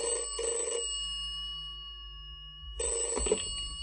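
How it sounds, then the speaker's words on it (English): A telephone rings in an office, with two bursts of bright bell trilling separated by a steady humming pause. "His boss, Mr. Thompson, answered the phone."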